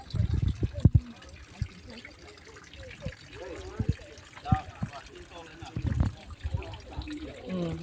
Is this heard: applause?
no